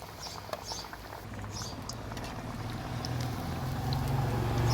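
Bread cutlets frying in hot oil give a steady, soft crackling sizzle with scattered tiny pops, building slightly louder toward the end, with no talk.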